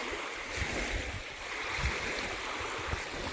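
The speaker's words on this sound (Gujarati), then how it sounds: "શાંત વાતાવરણ, એકલો પાણીનો અવાજ આવતો હોય" Steady rushing of water at a dam in a calm outdoor setting, a continuous broadband flow with low wind rumble and no talking.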